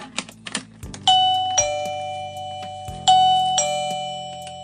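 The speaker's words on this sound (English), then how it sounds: "When you plug it in, it makes a chime sound." A PYBBO smart WiFi video doorbell sounds its chime on being plugged in: clear, loud electronic ding-dong tones ring out twice, each sustained note fading slowly, after a few soft handling clicks.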